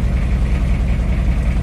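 Mitsubishi L300 pickup engine running steadily after warm-up on an older vehicle, a loud, continuous low rumble with an even mechanical chug, heard alone with no talking.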